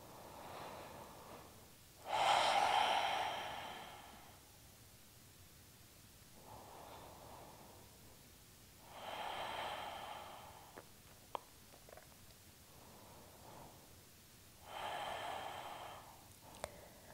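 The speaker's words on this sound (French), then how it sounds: "à écouter le va-et-vient de la respiration" Slow yoga breathing in a calm vinyasa session: three long, audible breaths come close to the ear and are spaced several seconds apart, with faint quiet stretches between them and small clicks.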